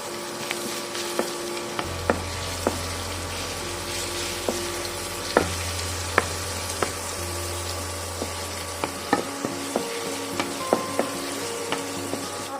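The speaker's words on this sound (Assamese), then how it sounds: "ভাজি লৈছোঁ আৰু পিঁয়াজ মই প্ৰায় এফুটা পিঁয়াজ দিছোঁ" Sliced onion and garlic frying in oil in a home kitchen, a close, steady sizzle with sharp crackles and spoon taps, over a low hum that comes and goes.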